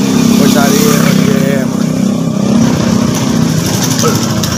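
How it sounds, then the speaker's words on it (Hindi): Cars and motorcycles pass along a street in Mirpurkhas in the morning, a loud, continuous engine roar and hum of traffic swelling and fading close by. "गाड़ियाँ मोटरसाइकिल आ रही हैं"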